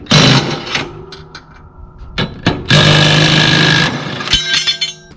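An impact wrench removes the blade bolts from a lawn mower, firing in sharp loud bursts of rattling hammering with short pauses between them, up close and without voices.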